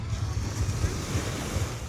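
Ocean waves roll and wash steadily, with a continuous low rumble of surf and wind buffeting the microphone.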